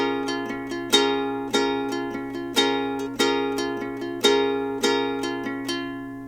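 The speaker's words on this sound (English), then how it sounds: "Without any chords, the strumming pattern itself should sound like this at tempo." A ukulele strummed without chords plays the outro strumming pattern of a song at tempo, with bright, evenly spaced strokes and accented downstrums in a steady repeating rhythm, close and unaccompanied.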